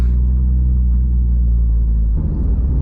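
Porsche GT3 RS engine and transmission at high RPM, a loud, steady low mechanical drone with grinding metallic undertones that roughens and swells near the end.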